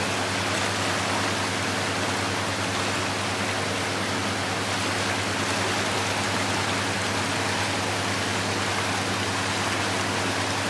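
Floodwater rushing down a swollen, debris-plugged creek that is cutting at its bank, a steady, loud broadband roar with no breaks or voices throughout.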